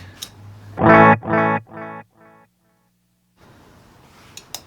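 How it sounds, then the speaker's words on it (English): A guitar played through a micro-sized digital delay pedal: a few strummed notes, loud and close, then softer repeats fading out, a short silence, and faint noise returning. "And here's the delay."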